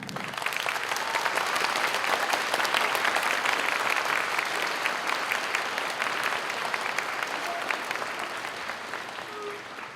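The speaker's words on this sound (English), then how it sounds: "I would really like to give these 4 young ladies a round of applause" Sustained applause from a school audience at a Veteran's Day program for the four young winners of a drawing contest, dense steady clapping that fades slightly toward the end.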